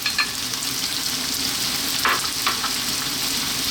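Carrots, celery and cauliflower stir-frying over high heat, a steady loud sizzle with a couple of brief stirring scrapes, no talk.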